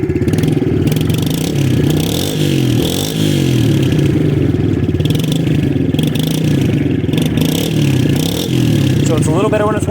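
Yamaha TTR110 dirt bike engine, warmed up after a carburetor swap, revved repeatedly with the throttle, a close, loud buzzing single-cylinder note rising and falling in steady bursts, with a voice briefly heard near the end.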